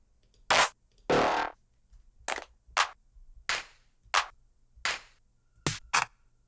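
Clap drum samples auditioned one after another in an Ableton drum rack, about ten sharp, dry claps at uneven intervals with silence between them.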